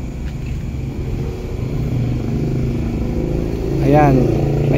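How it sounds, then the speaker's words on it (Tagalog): Tricycles and motorcycles passing on a busy street, a continuous rumbling engine drone that swells as a motorbike revs by near the end, with no talk over it. "Ayan, maingay po, may mga tricycle, motor."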